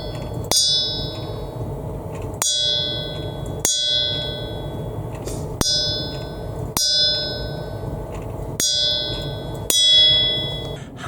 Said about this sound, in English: using the boat's watch bell, we're going to ring in the new year.